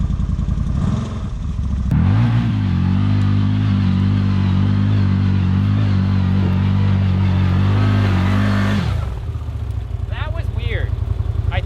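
A CFMOTO Z-Force 950 HO EX side-by-side drives off-road, its engine rising to a loud, steady drone held near constant speed before cutting back, with a voice talking over parts of it.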